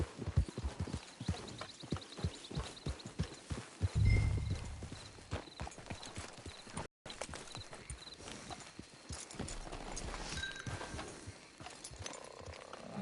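Horse hooves clip-clop steadily in the video game Red Dead Online, a close, rhythmic trotting patter that runs through most of the stretch with a brief break midway.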